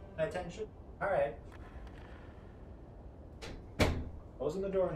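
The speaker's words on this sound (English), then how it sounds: "Closing the door now." A room door pushed shut in a home, giving one sharp thud in the middle of a quiet stretch, with voices talking before and after it.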